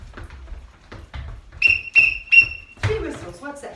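A coach's whistle during a children's at-home sport class gives three short, shrill blasts in quick succession, close and clear, amid light movement sounds and a voice afterward.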